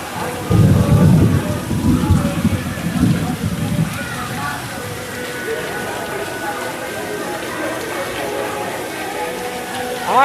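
Heavy rain pours at Adventure Island water park in Tampa, Florida, with a loud low rumble of thunder in the first few seconds, then a steady hiss of rain on surfaces.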